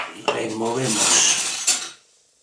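A spoon stirs a ginger ale drink in a glass, giving a brief scraping, clinking swirl of metal on glass with a couple of sharp taps, close and clear before falling silent.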